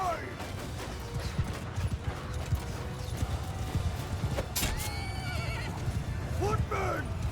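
Horses whinny and neigh amid thudding hooves in a Mount & Blade II Bannerlord battle, several calls rising over a dense clatter of fighting and clanking at moderate distance, with voices mixed in.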